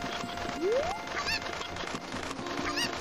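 A chicken in a Zelda Ocarina of Time hack squawks with a quick rising cry followed by a few short, higher clucks over a busy game background.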